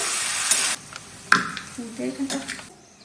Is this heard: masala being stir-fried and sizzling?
yes